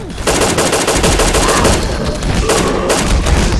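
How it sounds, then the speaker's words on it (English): Continuous automatic fire from an AK rifle in BrainBread 2, with a dense, loud and close stream of rapid shots that rattles on without pause for the whole stretch. "This AK is so inaccurate."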